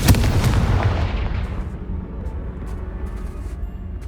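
A Confringo fire spell blast in Hogwarts Legacy, a loud booming explosion up front that rolls off into a long rumbling decay.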